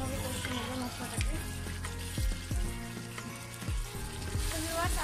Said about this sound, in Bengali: মশলাটা আমি 2 মিনিট থেকে 3 মিনিট আমি এটাকে ভালোভাবে কষিয়ে নেব মশলাটাকে।